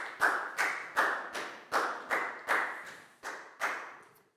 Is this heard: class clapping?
yes